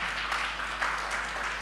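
A church congregation applauding, a steady wash of many hands clapping at a moderate distance, sustained and fairly even throughout.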